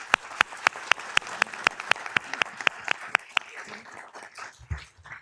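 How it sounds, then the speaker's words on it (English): Audience applause at a Downey city council meeting: close, crisp claps in a quick, even rhythm over a wash of room clapping, stopping after a few seconds and leaving quieter shuffling and murmur. "So I'd like to give them a hand of applause as well."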